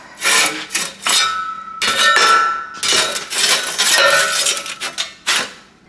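A metal bar is picked up and handled in a workshop, giving a run of loud, close clanks and ringing metallic clinks in irregular bursts, some left to ring out briefly, with no talking.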